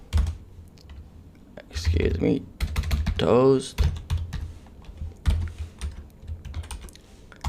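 Typing on a computer keyboard while writing React code, with quick irregular clicks and clatter throughout, loud bursts around the middle, under a faint background voice.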